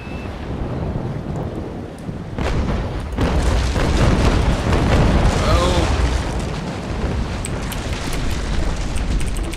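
A Naval Action brig lets loose a cannon broadside, a rolling string of deep booms swelling into a long thunderous rumble, with someone speaking over the gunfire.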